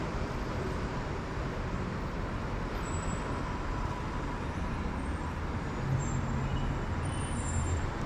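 Steady road traffic in Jeddah around 11 o'clock: a continuous broadband rumble of cars, buses and trucks, with a brief air-brake-like hiss near the end and no one talking.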